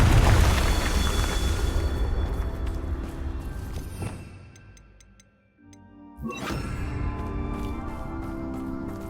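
A Confringo blasting spell in Hogwarts Legacy erupts in a loud, booming burst that slowly fades over several seconds, followed by a brief quiet moment and then a second crackling blast with lingering ringing tones.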